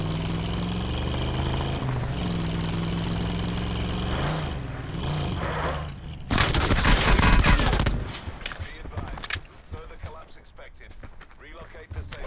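Gunfire in Call of Duty: Black Ops 4 Blackout on PS5, a loud burst of rapid shots in the middle stretch, with engine-like drone and in-game sounds around it and people talking over parts of it.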